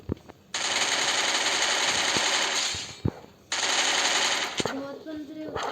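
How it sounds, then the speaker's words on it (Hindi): MP5 submachine gun fire in the video game Free Fire comes in two long rapid automatic bursts, loud and close, broken by a short pause, with a few single shots and game sounds at the end. "MP5 निकाल के मारो, नीचे बंदा है"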